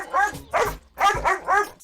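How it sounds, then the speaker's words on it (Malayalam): A dog barks after being given biscuits, four or five sharp, close yaps in quick succession with short gaps between them. "ഈ പട്ടിക്ക് ബിസ്ക്കറ്റ് കൊടുക്കരുത്."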